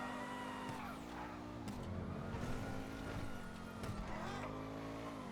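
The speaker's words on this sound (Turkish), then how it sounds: "Arabadan berbat ses geliyor yalnız." A car engine in GTA 5 drones and revs under a busy game mix, with tire noise and faint voices, steady and moderately loud throughout.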